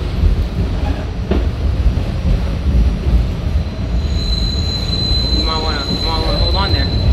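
A New York Q subway train rumbles steadily with loud, continuous noise, and shrill metallic wheel squeals rise over it in the second half; a voice is faintly heard at times.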